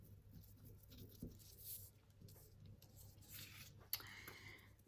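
A pen writes on paper with soft, faint, irregular scratching strokes close by, broken by a few light taps and rustles, with no talk.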